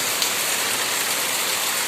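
Dense, heavy rain pours down steadily onto a dry field, a thick hiss of water hitting surfaces with no break and no voices.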